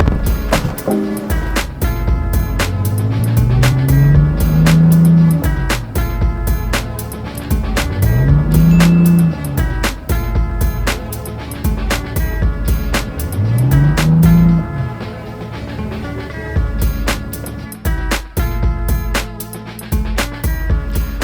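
A BMW i8 sports car drives a horseshoe bend near Las Vegas, its engine rising and falling in three smooth sweeps as it accelerates, with clicks and thumps over a loud steady road rumble.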